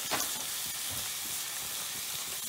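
Mackerel curry frying in a pan while being stirred, a steady close sizzle with scraping spoon strokes throughout, no talking.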